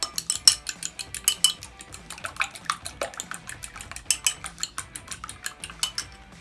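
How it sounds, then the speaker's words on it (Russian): An egg being lightly whisked for gnocchi dough with rapid, rhythmic metal clinks of utensil against bowl, close and fairly loud, with no talking. "Одно яйцо, я его слегка взобью."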